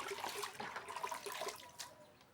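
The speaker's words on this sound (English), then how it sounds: "So I will have to mix it small in water" Salt for cattle being stirred into water at a village homestead, with a soft, continuous splashing and trickling of liquid close by, steady throughout with no talk.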